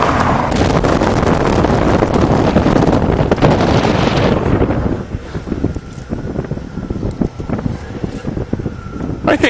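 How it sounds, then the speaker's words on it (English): Strong wind buffets the microphone outdoors on a farm while a homemade redneck rollercoaster runs, a loud roaring rush that eases to gustier, patchier blowing partway through. "Every day is windy."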